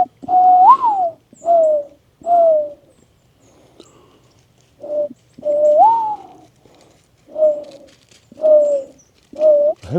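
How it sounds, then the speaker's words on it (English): Mourning doves coo in the open, nearby and clear. Soft rising and falling calls repeat in short bursts with brief quiet gaps between them. "I haven't heard any of those mourning doves. But yeah, I hear them."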